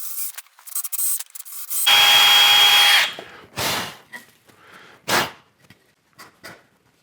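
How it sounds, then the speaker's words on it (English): A power drill whines loudly for about a second while drilling pilot holes, followed by several short bursts of drilling and rattling handling noises up close. "So we're gonna drill some pilot holes."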